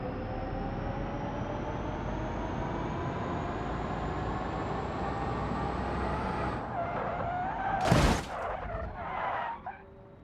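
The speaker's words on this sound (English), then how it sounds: "Now to the crash test, and the final result." A Volkswagen car driven into a crash test in BeamNG Drive, its engine droning steadily before a sharp, loud impact at around eight seconds followed by a few scraping, crunching bursts.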